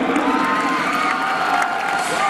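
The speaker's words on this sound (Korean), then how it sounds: "다시 한번 우리 조규성 선수에게 뜨거운 박수 부탁드립니다" Fans of footballer Cho Gue-sung cheer and clap at a Jeonbuk welcome event after his military discharge, a dense, steady roar of crowd noise with scattered shouts and whoops filling the space.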